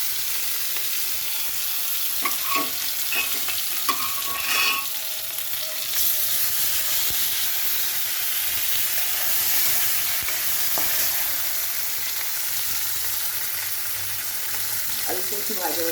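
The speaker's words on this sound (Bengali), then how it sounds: "আমি এবারে এতে এই আলুগুলো ছেড়ে দিচ্ছি তেলের উপর।" Boiled potatoes frying in hot oil in a pan for an egg curry, giving a steady close sizzle and crackle with occasional stirring scrapes, no talk.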